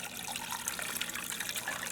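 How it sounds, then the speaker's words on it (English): About seven cups of water pour over a spoon into a soup pot of meat for beef and barley soup, a steady close splashing gush that runs without a break and without talk. "And right over my spoon, I'm going to pour that so it doesn't splatter me."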